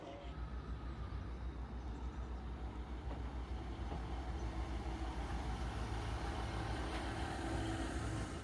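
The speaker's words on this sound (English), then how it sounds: "My train's pulled in now." A train made of two Class 150 diesel units, four coaches in all, rumbling into a station on the St Ives Bay Line, a constant low, loud engine drone with no talk.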